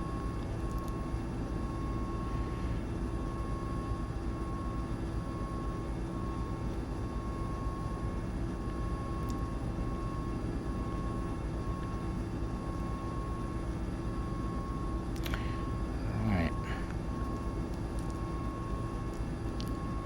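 A Mil Mi-17 V-5 helicopter from the Mi-8 family taxis in Microsoft Flight Simulator. Its engine and rotor drone holds steady and constant throughout, with a few faint tonal sweeps near the end and no voices.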